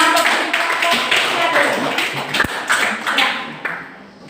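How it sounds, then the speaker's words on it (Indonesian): Students applauding in a classroom, a broad wash of many hands clapping near and fairly loud, with a sharp knock partway through and the clapping tapering toward the end amid chatter. "Oke, kita berikan aplaus."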